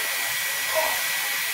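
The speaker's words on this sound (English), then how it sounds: "Ping pong ball in blow dryer." A hair dryer blows steadily with broadband airflow hiss, holding a ping pong ball aloft in a physics lecture demonstration of Bernoulli's principle; the whoosh is continuous and fairly loud, with a faint brief tone near the middle.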